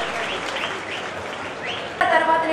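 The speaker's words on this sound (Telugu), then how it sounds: "గట్టిగా చప్పట్లు కొట్టి చెప్పాలి." An audience claps steadily through an awards ceremony in Ongole, with a voice carrying over the applause and the clapping swelling louder toward the end.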